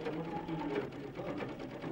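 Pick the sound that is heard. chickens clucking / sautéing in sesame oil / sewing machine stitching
sewing machine stitching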